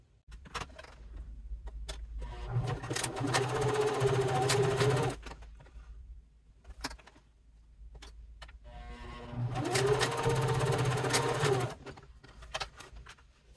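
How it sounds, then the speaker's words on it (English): A sewing machine stitches across the bottom of leather bifold wallet card pockets in two bursts of rapid mechanical whirring, separated by quiet handling clicks and rustles, close and fairly loud. "Go over to your sewing machine, so straight across the bottom of both those pockets."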